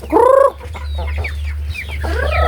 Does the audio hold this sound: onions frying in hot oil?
no